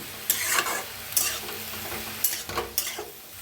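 Tender ghevda beans dry-roast in a pan as a spatula stirs them in a few distinct sweeps, each a brief burst of sizzling scrape separated by quieter moments, close and clear with no talk.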